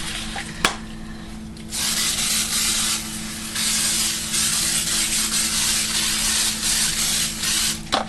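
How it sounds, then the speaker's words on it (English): Non-stick cooking spray hissing from an aerosol can onto a casserole dish, several close bursts of spray separated by short pauses, with a sharp click near the start. "I am going to spray this with some non-stick cooking spray."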